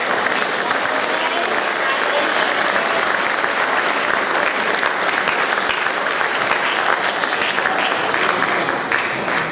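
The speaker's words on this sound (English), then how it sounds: "let's give one more round of applause to all those." Sustained, dense audience applause at an 8th grade awards ceremony for the award winners, a full steady round of clapping from a large crowd throughout.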